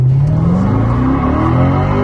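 A C7 Corvette launches hard using launch control, its engine roaring loud and close with pitch steadily climbing as the rear tires spin loose, a continuous rising rev with no pauses.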